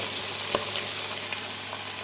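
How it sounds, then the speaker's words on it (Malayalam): Curry leaves fry in hot oil with a steady, hissing sizzle and a few faint pops throughout. "നല്ലോണം ഇങ്ങനെ മുരിയട്ടോ നല്ലോണം മൊരിഞ്ഞ് വറുത്തിട്ട്"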